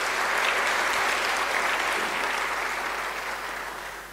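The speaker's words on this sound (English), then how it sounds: "A warm round of applause for him" An audience at a university conversation event gives a warm round of applause, full and steady at first, then slowly tapering off as the clapping thins out.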